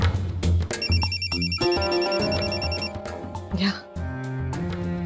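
Electronic phone ringtone trilling steadily with a repeating melodic pattern over background music and voices in a Marathi TV drama scene, loud and near throughout.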